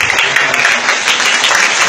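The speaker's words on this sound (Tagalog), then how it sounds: "Sige po yung malakas na palakpak para po sa Panginoon." Loud, dense clapping from a church congregation fills the space continuously, a steady wash of many hands applauding together in a worship setting.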